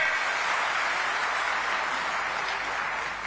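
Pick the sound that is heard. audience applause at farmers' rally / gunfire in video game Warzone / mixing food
audience applause at farmers' rally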